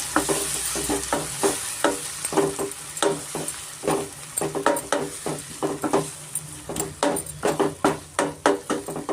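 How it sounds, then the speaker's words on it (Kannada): Chopped tomato goes into ginger and garlic frying in oil for a jackfruit seed curry: a soft sizzle under repeated, rhythmic scraping strokes of a spatula stirring the pan, close and clear. "ಇವಾಗ ಇದಕ್ಕೆ ನಾನು ಟೊಮೆಟೊ ಚಾಪ್ ಮಾಡಿರೋ ಟೊಮೆಟೊ ಸೇರಿಸ್ಕೊತಾ ಇದ್ದೀನಿ"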